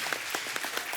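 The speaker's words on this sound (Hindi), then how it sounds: "एक बार जोरदार ताली हो" An audience on a film star-cast show claps in steady, fairly quick rhythm, a brief burst of applause heard at moderate level without talk.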